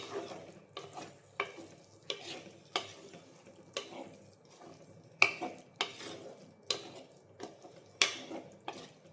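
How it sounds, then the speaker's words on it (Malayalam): Dal curry with tomato stirred in a pan for a Kerala drumstick, okra and mango curry, a steady series of spoon scrapes and clinks against the pan in an even rhythm with a faint sizzle underneath, close and without talk. "അതിനെ ഇളക്കിയ ശേഷം അതിലേക്ക് ഒരു 1/2 സ്പൂണ് മഞ്ഞൾപ്പൊടി കൂടി ചേർത്ത്"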